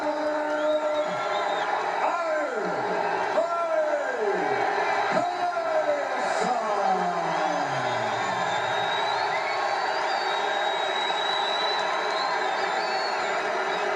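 A boxing arena crowd roars and cheers for the Tyson vs Spinks heavyweight title fight, a dense, sustained wall of noise with rising whoops and shouts swelling through the first half.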